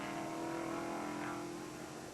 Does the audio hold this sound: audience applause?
no